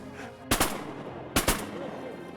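Two sharp close gunshots, each a quick double crack, ring out about a second apart as Army Rangers fire at fast-flying birds outdoors.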